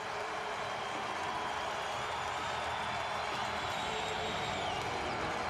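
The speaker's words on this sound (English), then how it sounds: "I got to wait for the crowd to settle down here a little bit. It's going berserk in here." Hockey arena crowd roaring steadily after a short-handed goal, a dense sustained wall of cheering and noise with no letup, the Seattle–Portland game crowd going wild throughout.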